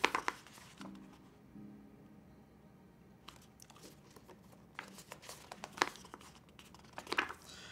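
A single-page paper instruction manual is unfolded from a mechanical keyboard box, giving quiet, scattered crinkles and rustles with a few sharper crackles near the end.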